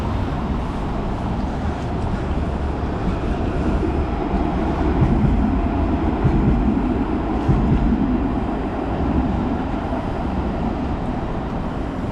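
A light rail train in Toronto rumbles past steadily, a continuous low roar of wheels and motion that swells slightly in the middle before easing, with no voices.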